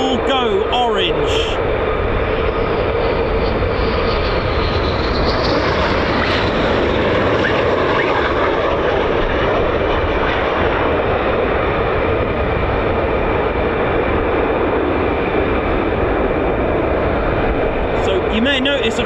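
Loud, steady roar of F-35 fighter jet engines at RAF Lakenheath, a broad continuous rumble that swells slightly mid-way and persists throughout, heard close from the airfield with a voice talking over it.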